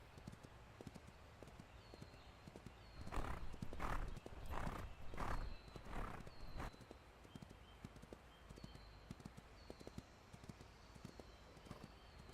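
Horse hooves clip-clop in the farming video game Ranch of Rivershine, a short run of about five soft, evenly spaced hoofbeats in the middle of a quiet stretch, faint and alone.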